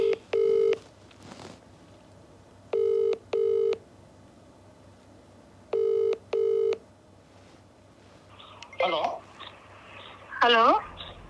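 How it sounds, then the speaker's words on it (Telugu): Telephone tones on a call, short paired beeps of ringing repeating at steady intervals over a quiet line, followed by voices talking. "రింగ్ అయితే అవుతోంది."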